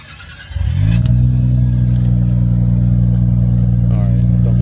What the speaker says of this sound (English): Anthony's going to fire up his R34 GTR so I can hear it